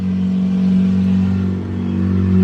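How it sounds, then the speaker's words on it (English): A car drives past close by with a steady, loud engine drone that holds for a couple of seconds and swells slightly toward the end. "oh, sorry, a car."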